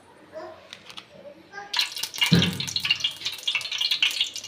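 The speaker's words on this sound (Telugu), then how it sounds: "5 నిమిషాలు పక్కన పెట్టిన తర్వాత వాటర్ అంతా వంపేయాలండి." Soaking water is poured off food: after a quiet stretch, a sudden splashing pour starts and keeps running steadily, close by and fairly loud, with a voice heard faintly before it.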